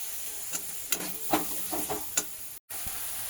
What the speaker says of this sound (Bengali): নেড়ে চেড়ে ভালো করে কষে নিই। টমেটো,